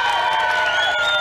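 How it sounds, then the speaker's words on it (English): A crowd of supporters gathered outside the president's home on the outskirts of Antananarivo, a dense wash of many overlapping voices calling and shouting, steady and close throughout the brief moment. "That task falls to crowds of supporters who are gathering outside his home on the outskirts of town"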